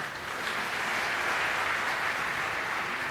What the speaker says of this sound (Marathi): लोकांनी एवढ्या टाळ्या वाजवल्या